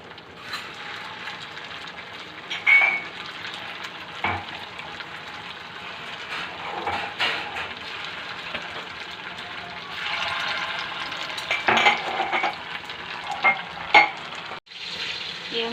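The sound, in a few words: potato snacks frying in hot oil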